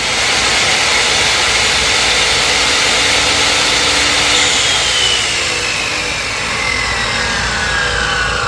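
An engine idles nearby at a steady, loud, unbroken rumble, its even mechanical drone holding for the full length with no voices over it.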